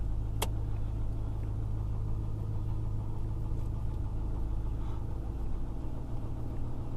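A black Dodge 3500 dually truck drives straight down a road, its engine a steady low rumble heard from inside the cab, constant and fairly loud with no speech.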